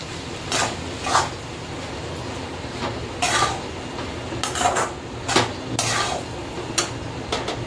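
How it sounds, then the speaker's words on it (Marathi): Flattened rice (poha) with potatoes being stirred in a pan, a spoon scraping and clinking against the metal in irregular bursts, fairly close, with no talking. "पोहे टाकूया, मिक्स करून घेऊया."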